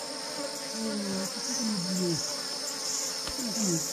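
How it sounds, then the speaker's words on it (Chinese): Honeybees nesting inside a tree hollow give off a steady, fairly loud buzzing, with single bees' wingbeats rising and falling in pitch as they fly close by. No one speaks. "蜜蜂树洞里面发现一窝蜜蜂"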